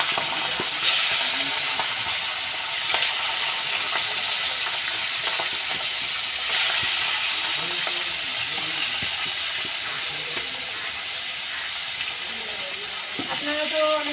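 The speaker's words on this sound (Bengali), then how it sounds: "তেলটা আমার খুব ভালোভাবে গরম হয়ে গেছে, এবার মাছের মাথাগুলো সব ভেজে নেব।" Bhetki fish heads frying in hot oil, a steady loud sizzle and hiss with occasional crackles and pops, continuous close up in a home kitchen.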